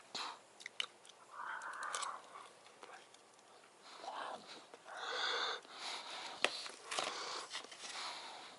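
A person chews a tough, hot piece of home-cooked supper at close range, with soft irregular mouth sounds and breathy noises across several seconds.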